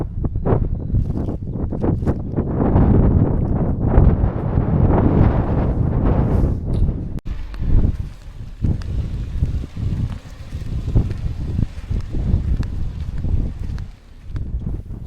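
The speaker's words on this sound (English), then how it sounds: "It was cold, 6 degrees and windy." Cold wind at Summit Rock in the Rock and Pillar Ranges, Otago, New Zealand, roars steadily into the microphone at 1450 metres, loud and gusty throughout with strong low rumbling buffets.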